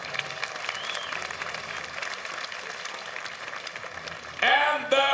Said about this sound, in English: over here in Amsterdam, a big applause for Kasim Aras, Mario Pinto.